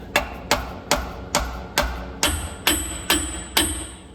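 A hammer strikes a trailing arm on a Lexus LX470 nine times in an even rhythm, each blow a sharp ringing clang close by, with a few left to decay.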